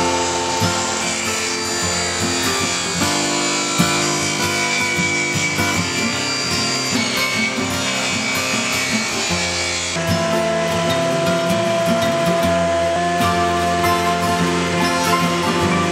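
A 12-inch wood planer runs through a board for award plaques, a loud, steady machine roar with grinding cutter noise that holds for the whole stretch without pause.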